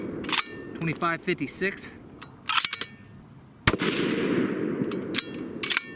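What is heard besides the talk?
rifle shots firing 168gr Aeromatch bullets in .308 Winchester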